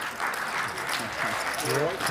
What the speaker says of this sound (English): Charity applause.